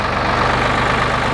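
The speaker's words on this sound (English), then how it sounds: "Man, I miss this loud diesel tractor." A loud diesel tractor engine idles steadily and close up, its low throbbing rumble continuous and unbroken with no voices over it.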